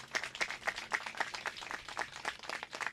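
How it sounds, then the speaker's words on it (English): Scattered clapping from the audience at an outdoor ribbon cutting for a park and creek restoration project, a thin ragged round of hand claps with no voices over it. "Give them a big round of applause."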